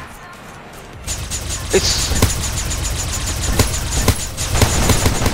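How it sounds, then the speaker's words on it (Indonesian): A battle royale shooter blending Fortnite and Overwatch, with sporadic gunshots cracking every second or so over a dense, noisy firefight. A single spoken word is heard briefly. "Udah ada yang nembakin gue."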